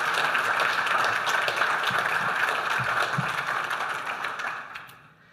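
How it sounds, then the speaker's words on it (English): Sustained applause from an awards ceremony crowd, steady and dense for several seconds, then fading out near the end. "giving all of the teams who reached the final stage of the awards process a well-deserved round of applause"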